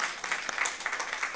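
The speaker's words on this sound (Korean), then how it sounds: "박수로 환영하겠습니다." Church congregation applauding in welcome of visiting family members at a Sunday service, a brief, steady burst of many hands clapping at moderate distance, with no talk over it.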